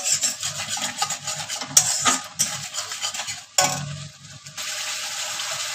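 Salt and turmeric are stir-fried with potato curry in a pan for a home-cooked vegetarian dish. A steady scraping, rasping stir fills the whole stretch, with a few sharper knocks of a spoon against the pan and no talk.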